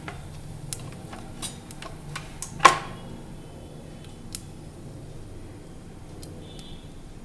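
Mustard and cumin seeds crackling in hot oil in a wok: scattered small pops and crackles sound irregularly over a quiet hiss, with one sharper snap partway through.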